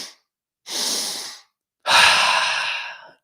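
Slow, deep breaths during a recovery-focused breathwork exercise: a short exhale tail, then one long airy breath and a second, stronger and longer one, close and alone with silent gaps between.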